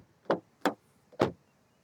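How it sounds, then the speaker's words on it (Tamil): Three firm knocks on the door of a Maruti Brezza compact SUV, evenly spaced and close, each a short hollow thud with no talk. "டோரோட தட்டு கேட்டலாம்"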